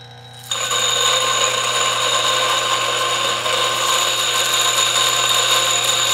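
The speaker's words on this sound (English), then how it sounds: "It is not the quietest grinder that I've used, but I wouldn't say that it is excessively loud" A Turin DF64 coffee grinder grinds beans, its loud, steady motor whine starting abruptly after a brief quieter hum and holding constant until it cuts off sharply at the end.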